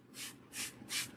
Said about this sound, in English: So she sprays the hair.